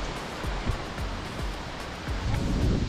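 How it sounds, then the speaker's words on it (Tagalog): A river flows during a hiking river crossing, heard as a dense, steady rushing wash of water that swells slightly toward the end, with no voices. "Tatawid na tayo dito sa ilog."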